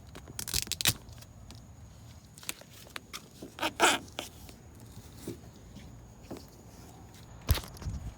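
Adhesive tape ripped off a roll with sharp tearing bursts, then pressed and smoothed down the window glass of a 2004 Buick LeSabre door during a window regulator replacement, close and fairly quiet.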